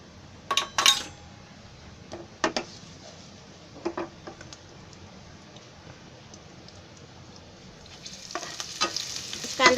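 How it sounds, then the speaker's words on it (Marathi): Onion frying in oil with bay leaves for crab curry, a soft low sizzle punctuated by several sharp metallic clinks of a utensil against the pan, with the frying growing louder toward the end. "कांदा जरा लाल व्हायला द्यायचा"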